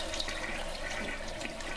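Water running from an indoor faucet, a steady even stream of splashing and hiss with no voices, heard at moderate distance.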